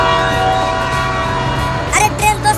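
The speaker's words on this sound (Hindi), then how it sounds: "अरे ट्रेन तो सीटी मार रही है। लगता है अब ट्रेन चलने ही वाली है।" A cartoon train horn whistles loud and sustained, holding a steady tone with a low rumble beneath, then breaking into a few short blasts near the end.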